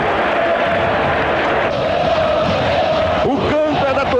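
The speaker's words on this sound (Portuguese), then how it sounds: "O canto é da torcida." Football stadium crowd chanting in unison at a 1988 Corinthians match against Guarani in the São Paulo state championship, a loud continuous roar of many voices with rising whoops, filling the whole stretch.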